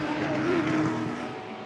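Ford Falcon touring race car engine at a 2010 Touring Car Masters round in Adelaide roars loudly and steadily, a wailing mechanical drone that holds then eases slightly.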